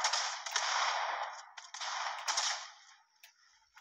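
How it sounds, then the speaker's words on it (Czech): Sharp cracks of video game gunfire burst out in quick succession over a steady rushing hiss, loud and close, with a few isolated shots trailing off near the end. "Slyším střelbu."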